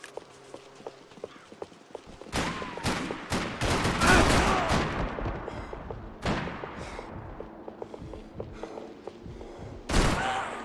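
Gunfire in Max Payne 3, with a dense volley of shots that sets in after a quiet opening, loud and sustained for several seconds before tapering, then one more sharp burst near the end.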